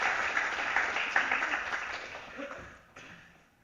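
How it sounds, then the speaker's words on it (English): An audience at a scientific Python conference session applauds the presenters, a dense burst of clapping that swells then thins out and fades over a few seconds. "Round of applause, please, for all our presenters today, please."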